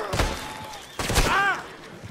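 Gunfire rings out in the Red Dead Redemption 2 video game, two loud close shots about a second apart, each trailing into a long ringing tail.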